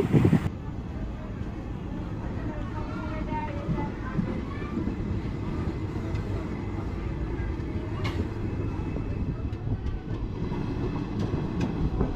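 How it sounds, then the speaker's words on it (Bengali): The Jagannath Express pulls out of Mecheda Junction in the evening, a continuous low rumble and rattle of the rolling train heard from inside, steady and fairly loud throughout with a few faint clicks. "আর আমাদের ট্রেনটি মেচেদা জংশন থেকে ছেড়ে দিল"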